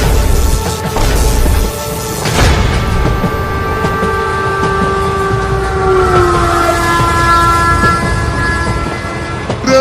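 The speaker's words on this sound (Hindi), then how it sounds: "ट्रेन तो चली गई मालिक।" A cartoon train rushes past loudly, with rumbling wagons, rhythmic clickety-clack and drawn-out horn tones that dominate the scene without any voices.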